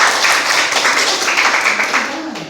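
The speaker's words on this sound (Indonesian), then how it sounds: "tepuk tangan untuk kita semua" A group of adults at a school staff meeting applaud together, a dense wash of overlapping claps, close and steady before tapering at the end.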